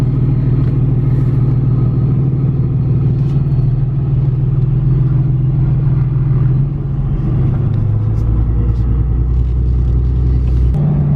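Cummins diesel pickup truck driving, a loud, steady low rumble with a deep engine drone that shifts pitch slightly partway through, heard from close by and continuous throughout.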